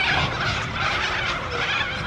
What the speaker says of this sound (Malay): Kenapa tuh burung bising gitu ah?